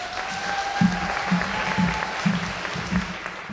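Audience applause for a speaker at a fashion runway show, steady clapping throughout with a faint tone line running across it and a few louder thumps.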